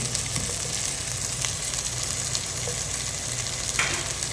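About ten grams of homemade ghee sizzles and crackles steadily in a hot pan while camel biryani is prepared, a loud, close, continuous frying hiss with occasional stirring scrapes.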